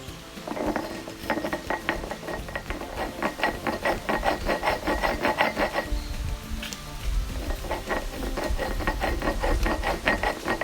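Fenugreek spice paste with turmeric being ground for a mango dish in a village kitchen, heard as a steady rhythmic rasping and knocking of stone or grinder with clinking, continuous and fairly close, no talking.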